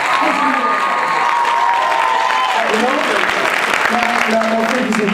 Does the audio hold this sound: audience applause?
yes